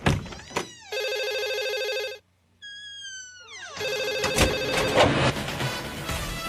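A mobile phone rings with an incoming call on the set of a stunt reality show, in bursts of a bright electronic ringtone. Short thumps, a brief silence and later background clatter come in between the rings.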